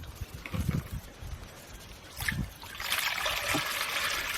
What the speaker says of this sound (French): Donc là, tu rajoutes de l'eau.